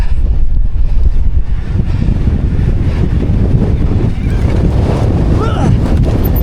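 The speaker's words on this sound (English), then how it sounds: "It is extremely windy up here, blowing you all over." Strong wind buffets the microphone in a continuous, loud low roar with gusty surges, high up in woodland during a mountain bike ride, and faint voices can be heard beneath it.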